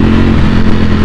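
A Ducati Panigale V4S riding with a loud Aprilia motorcycle close behind, a brief, very loud, steady engine drone heard up close with no voices.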